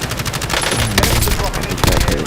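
Rapid automatic gunfire in a multiplayer shooter video game, dense continuous bursts of loud shots with a few heavier blasts, close and harsh throughout.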